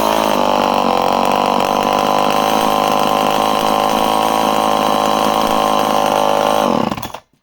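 A vintage XL 103 chainsaw, roughly 55 years old, runs loud and steady close by with a continuous buzzing engine note, then cuts off abruptly near the end.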